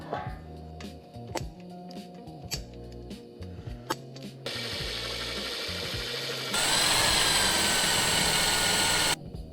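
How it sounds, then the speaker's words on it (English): Rhythmic taps and knocks give way to a steady mechanical whir of a power drill running on metal on a custom mini chopper build, rising louder before stopping. "and then drill and tap it."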